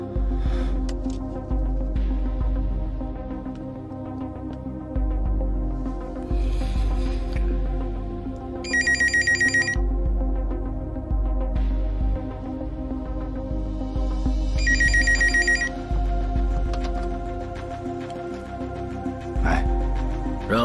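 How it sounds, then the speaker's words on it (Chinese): A telephone rings in two short electronic bursts, spaced apart and set over a steady low drone and background music in a tense action scene. "听电话"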